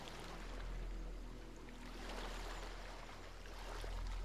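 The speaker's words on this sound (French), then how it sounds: "Tu entends le bruit des vagues tout autour de toi." Soft, distant wash of waves rolls in and out in slow swells, a quiet continuous surf with no voices.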